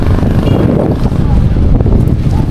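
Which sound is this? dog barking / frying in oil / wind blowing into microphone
wind blowing into microphone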